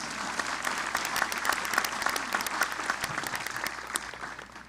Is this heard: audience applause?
yes